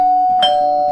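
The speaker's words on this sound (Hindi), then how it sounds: "तभी अचानक से उसकी डोरबेल बजती है।" A doorbell at a home rings once, a bright electronic chime sounding close and clear with a steady tone and a brief ding partway through, with no voices.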